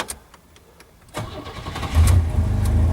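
A car engine cranks briefly, catches and settles into a steady idle close by, with no talking.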